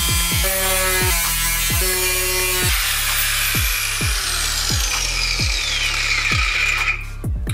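An angle grinder with a cutting disc slices through the steel lip of a car wheel arch on a wagon, its loud, continuous whine broken by a series of pulsing bites into the metal, close and without any speech.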